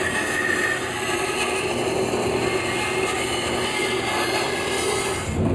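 A bandsaw cuts wood for a custom cutting board, a steady close droning hum with the rasp of the blade in the timber running unbroken throughout.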